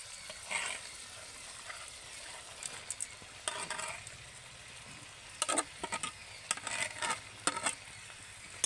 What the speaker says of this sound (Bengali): এবার আমি ভালো করে নেড়ে চেড়ে নেবো